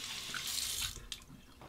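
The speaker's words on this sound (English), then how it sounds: "Hot then cold water rinse on the face." A bathroom sink tap runs for a face rinse, a soft steady hiss of flowing water with faint splashing, fairly quiet and alone.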